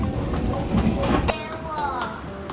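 A Taiwan Railway local electric train runs near Taitung, its steady rumble and rail clatter filling the car with high squeals of wheels and brakes over the bed of noise, with no talk.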